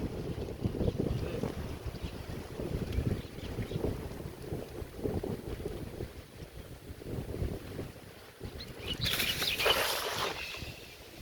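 Strong stormy wind blows at a village pond, a steady roaring gust buffeting close with rustling noise throughout, rising in a brighter burst near the end.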